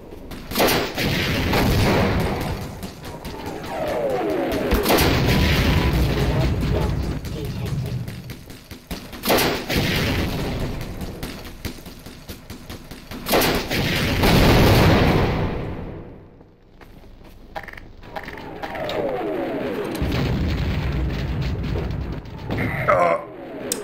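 Rocket blasts and gunfire from Half-Life: Source boom repeatedly, with heavy low-end bursts recurring every few seconds, broken by a brief quieter gap before more firing.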